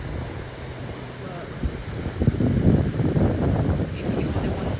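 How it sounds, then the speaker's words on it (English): Gusty wind buffets the microphone over a churning wash of sea waves on the coast at Albufeira, Portugal, building louder toward the middle, with a voice speaking briefly. "It's windy and waves"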